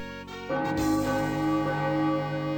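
Bells ring near a school in a video game, a sustained, resonant peal that swells after a brief quieter start and rings on steadily, alone and without any talking.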